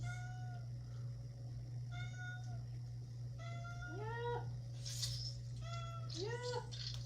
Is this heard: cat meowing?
yes